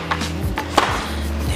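Garlic being crushed with a few quick pounding thuds while cooking a budget Filipino dish, close and fairly loud, over a steady low background hum.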